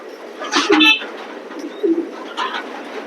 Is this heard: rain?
no